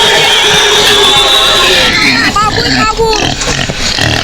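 Pig oinks and grunts come from the butchery video game, sounding as short repeated squeals and snorts over background babble and someone talking.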